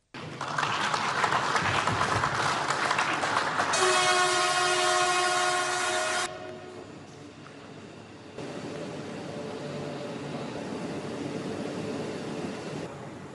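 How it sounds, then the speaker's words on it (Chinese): Jakarta-Bandung high-speed train on a test run, a loud steady rush of the train with a long sustained horn blast partway through, then continued rolling noise. "在场人员随后以视频形式对雅万高铁进行了沉浸式测试运行"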